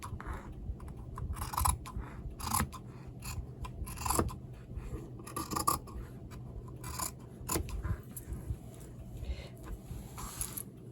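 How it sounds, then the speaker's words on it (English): Scissors snip through material along a marked line for a boho mixed-media bag, a steady series of close, crisp cuts with short pauses between strokes. "But we're gonna cut right on the line here."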